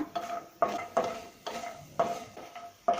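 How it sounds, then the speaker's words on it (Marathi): A spoon scrapes and clinks against a pan in repeated strokes while lumps of asafoetida are roasted and stirred, each stroke close and distinct with short pauses between. "हा खडा हिंग आहे ना तो भाजून घ्यायचा आहे आणि हिंग चांगला परतून घ्यायचा"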